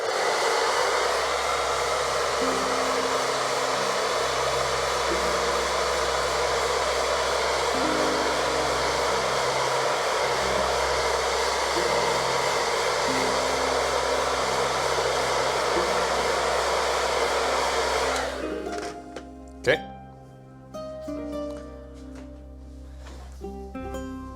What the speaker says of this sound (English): Let me just make sure I hit it again with the blow dryer before